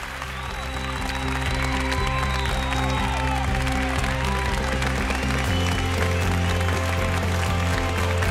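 Audience applause at the BAFTA Scotland awards ceremony, a dense continuous wash of clapping from a large crowd that holds steady and loud throughout while stage music plays underneath.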